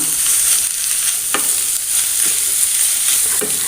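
Ground fish is stirred into softened onions in a pan, a close continuous sizzle punctuated by a few scraping and clinking stirs.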